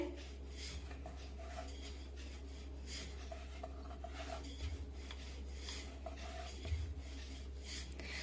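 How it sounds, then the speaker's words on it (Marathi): Egg paratha being rolled out by hand with a rolling pin on a board, giving a soft, steady rubbing scrape with a few faint knocks, quiet and close throughout. "आणि आता या पराठ्याला आपण लाटून घेऊया। अगदी हलक्या हाताने लाटून घ्यायचे।"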